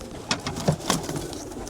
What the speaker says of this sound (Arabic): هذا الطير اسمه ألتا بولينشا بريفتاوبن، يعني الحمام الزاج.